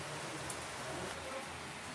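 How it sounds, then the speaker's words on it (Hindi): Rain falling outside a house, a steady broadband hiss of many drops with no individual patter standing out, faint and even across the whole stretch, with no voices. "मैं बैक कैमरे से दिखला रही हूँ कि बारिश कैसे हो रही है।"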